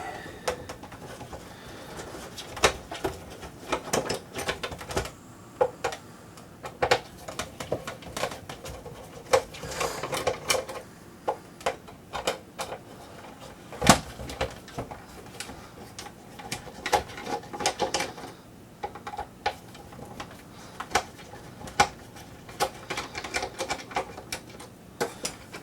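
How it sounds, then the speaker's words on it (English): Screws being undone on a fume extractor with activated carbon filter, a steady run of small clicks, ticks and scraping taps from the tool and casing, close and moderately quiet, with no talking. "There are 4 screws here. We'll undo those."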